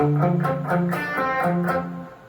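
A short, chugging electric guitar riff of palm-muted, punchy notes, played alone at moderate volume with a brief ringing unmuted note near the end.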